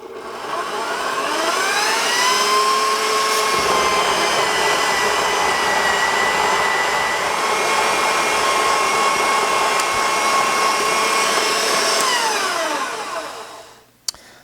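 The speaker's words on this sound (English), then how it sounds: "So we'll set it on the fine setting and run about 1/4 cup of grain through it." A Mockmill grain mill set to its fine setting grinds about a quarter cup of grain, giving a loud, steady whining motor drone with a rising and falling pitch that holds for roughly twelve seconds before spinning down.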